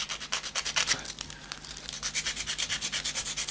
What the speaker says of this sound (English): we're going to do our best to just put a couple of scratches in it